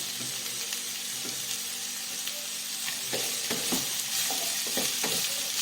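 Vegetable peels fry in a pan with a steady sizzle, broken by scraping stirs and clattering spatula strokes that grow busier toward the end, with no talking.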